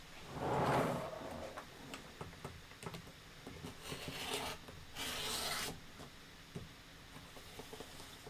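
Scissors cut through fabric and batting for a quilted pillow, producing close rasping, rubbing snips in irregular bursts, with a few louder swishes as the material is shifted.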